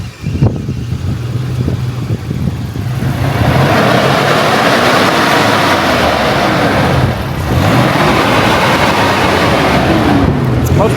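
An engine in an old overlanding rig, a 20+ year old vehicle, idles roughly and then climbs into a loud, sustained rev that dips briefly and rises again, heard close from inside the vehicle.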